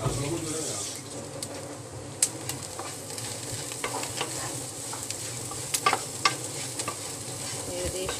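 Clam meat fry with crushed pepper being stirred in a pan: steady sizzling and frying with scraping stir strokes and occasional sharp clicks of the utensil, close and moderately loud throughout.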